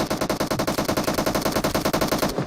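Sustained automatic gunfire in PUBG Mobile, a rapid, steady stream of loud shots lasting the whole stretch before cutting off at the end.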